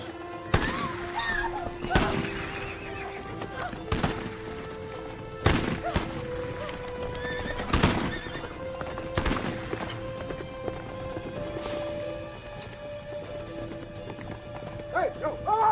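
Horses gallop and whinny in a Western scene, hooves clip-clopping in quick rhythm with sharp gunshots cracking at intervals and a shout over the commotion.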